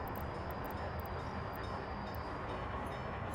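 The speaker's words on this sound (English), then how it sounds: "I want to find my friend the gravel train." A gravel train running in the Workers & Resources city-building game gives a steady, dense rumbling rail roll with no break, plus faint high clicking accents above it.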